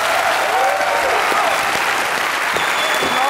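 D: Studio audience applause for a singer on a German late-night comedy talk show, a full, continuous burst of clapping from a seated crowd, loud and even across the whole stretch.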